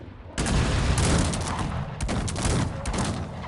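Cannon artillery firing in the strategy game Cossacks 3 during a 4 versus 4 multiplayer battle: a sustained, loud fusillade of overlapping booming shots that starts abruptly and rolls on without pause.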